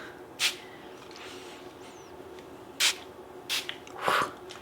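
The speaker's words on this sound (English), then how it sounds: "the Prime Set Refresh Hangover 3-in-1 Setting Spray" Prime Set Refresh Hangover 3-in-1 setting spray misted from a pump bottle, four short close hissing bursts spaced irregularly, the last one longer, over a quiet room.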